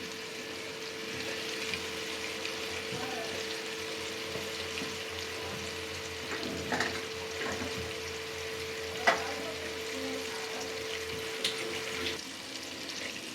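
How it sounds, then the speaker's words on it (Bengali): Chicken fries in a pan over low gas, giving a steady, close sizzle and hiss that runs throughout, broken by a few brief clinks and stirring knocks. "গ্যাসটা একটু অল্প আছে ভাজবেন, যাতে পুড়ে না যায়।"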